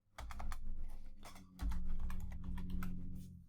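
Rapid keystrokes clatter on a computer keyboard, close and steady in two quick bursts with a brief pause between, no voices.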